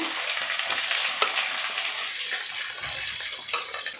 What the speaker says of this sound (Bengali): এখন দিয়ে দিব পেঁয়াজ এই তরকারিটাতে পেঁয়াজটা বেশি দিব পেঁয়াজ দিয়েই কষাবো